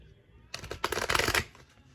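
A deck of tarot cards shuffled close up in a quiet room, giving one brief soft riffle of rapid fluttering clicks lasting about a second.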